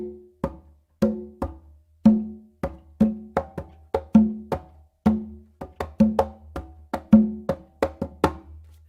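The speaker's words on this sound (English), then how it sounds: "So that's an open," A hand drum played in a repeating pattern of open, palm and open strokes, around two dozen close, crisp hits in a lively steady rhythm, with the open strokes ringing a low tone and the palm hits sounding shorter.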